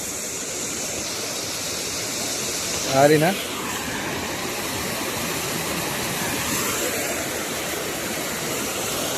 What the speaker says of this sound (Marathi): हे इथून पाणी पडतंय ना वरतून